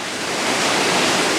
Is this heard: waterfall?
yes